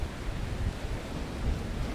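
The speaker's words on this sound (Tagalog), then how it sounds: "Malalaking alon ang humahampas sa may port area." Large waves from Super Typhoon Nando crash against a port area in Santa Ana, a constant, heavy low roar of surf and wind with no pauses.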